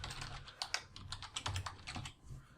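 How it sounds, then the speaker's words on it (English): Fingers tap quickly on a computer keyboard while technician and manager details are entered into a vibration-testing software form, producing close, irregular clicks in short bursts with brief pauses and no speech. "just typing in some information here"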